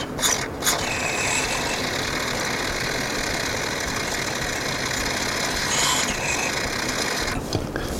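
Carburetor cleaner sprayed through a carburetor's passages, a steady hissing spray lasting several seconds, close and continuous, with a few brief clicks and handling noises.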